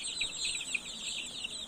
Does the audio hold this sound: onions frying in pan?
no